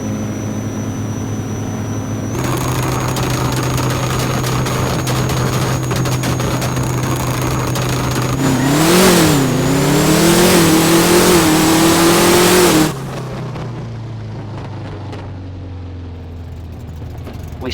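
A drag car engine idles, then revs hard and surges, with the pitch swooping up and down as it launches onto the wheelie bar before cutting back to a lower idle. Loud and close, with no talking.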